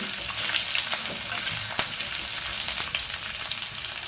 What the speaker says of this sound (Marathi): नंतर हे आलं टाकायचं सर्व असं चांगलं फ्राय करायचं तेलामध्ये